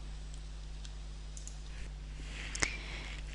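A single faint, sharp computer mouse click in a quiet room with a steady low hum, used to click on a spreadsheet cell.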